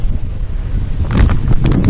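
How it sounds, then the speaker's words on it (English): An outdoor breeze buffets the microphone with low, rumbling gusts. The wind swells louder in the second half and nobody speaks. "Ooh, we're getting a real good breeze."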